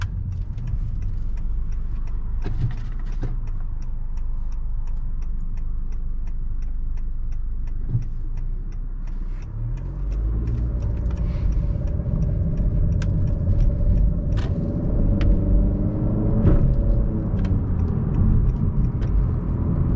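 A 2019 Honda Accord Sport with a 1.5 liter turbo four-cylinder accelerates hard in sport mode after a right turn; a rising engine roar and road rumble build from a quieter idle-like start, heard from inside the car.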